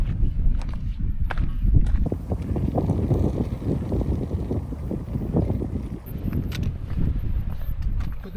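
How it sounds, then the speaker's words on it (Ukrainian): A light breeze buffets the microphone on a lakeside trail in the Pyrenees between Héas and Gavarnie, a steady rushing hiss with soft footsteps crunching beneath it, with no talk. "Подуває легенький вітерець."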